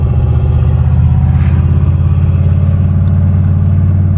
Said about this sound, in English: We're driving it home with no clutch.